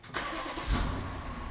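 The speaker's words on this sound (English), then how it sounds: "So we're going to turn our vehicle on." A 2019-or-later BMW X5 G05 SUV engine cranks and catches in one short surge, then settles into a smooth idle close by, with no voices.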